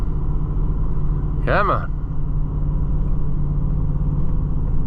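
John Deere 1020 tractor engine climbing uphill in second gear: a loud, steady low diesel rumble throughout, with a brief spoken exclamation over it.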